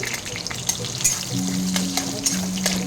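Dry red chillies and garlic crackle in hot oil in a home kitchen, a close, continuous sizzle with sharp pops and stirring scrapes scattered throughout, and a low hum entering midway.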